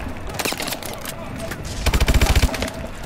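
Rapid bursts of video game gunfire in Call of Duty Advanced Warfare, with a sharp volley early on and a louder, evenly spaced rattle of automatic fire near the end, mixed with quieter in-game sounds.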